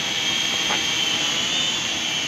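A cheap toy drone without GPS hovers just after a one-button takeoff, a steady high-pitched propeller whine that holds at an even level throughout, close by and with no talking.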